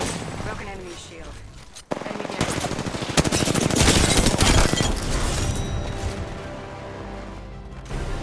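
Automatic gunfire in the battle royale game Apex Legends, loud sustained bursts and rapid rattling shots building to a dense volley mid-clip, with a sharp crack near the start and a voice talking over the shooting.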